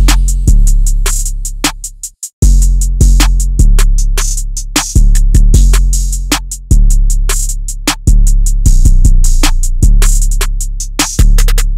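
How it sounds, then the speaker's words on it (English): A loud, steady drum pattern with booming 808 bass, crisp snare hits and rapid hi-hats, looping continuously with a brief dropout near the start. "And all the drums together sound like this."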